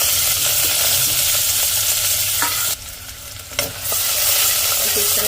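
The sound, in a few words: chopped onions sizzling in hot oil in a pressure cooker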